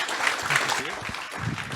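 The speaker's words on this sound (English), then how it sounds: "Let's give one more round of applause for Ben here." Applause from an audience at a low-carbon energy innovation forum, a steady patter of hand claps that carries on through the short stretch with faint voices mixed in.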